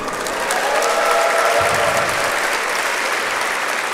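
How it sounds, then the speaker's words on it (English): A keynote crowd gives a round of applause, dense and even clapping that stays loud and steady for the full four seconds with no voice over it. "A round of applause."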